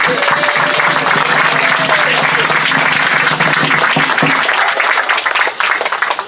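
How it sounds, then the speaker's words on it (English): A crowd at a Día de los Muertos event applauds friends who joined, loud sustained clapping from many hands with a faint voice or tone briefly audible beneath it. "Please, applause for them."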